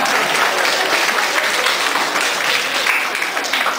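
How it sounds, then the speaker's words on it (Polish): Steady applause from an audience at the opening of an art exhibition of young people's artwork, a dense, even wash of clapping that stays loud throughout without breaks. "brawa"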